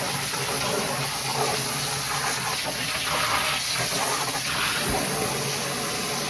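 High-pressure water sprays steadily over freshly harvested onions as they are rinsed, a loud continuous gushing hiss with slight fluctuations as the nozzle moves, filling the whole stretch without pause.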